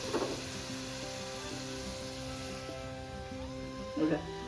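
Puris deep-frying in hot oil until golden brown, a steady soft sizzle and bubbling throughout with someone talking over it.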